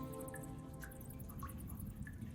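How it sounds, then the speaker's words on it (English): Water drips in a dark, echoing hall in a fantasy tabletop adventure, a few scattered plinks over a low ambient drone, faint and without voices. "the sounds of dripping water and those sort of things kind of still everywhere"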